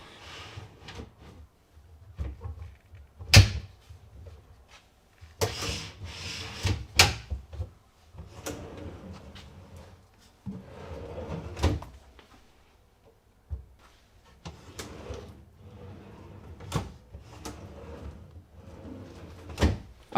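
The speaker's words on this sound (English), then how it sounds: "I can now simply click the drawers into place and they are fully installed." Drawers on sliders clicking into place in a plywood cabinet, a series of sharp wooden clacks and knocks spread irregularly across the stretch, with quieter rustling and handling between them.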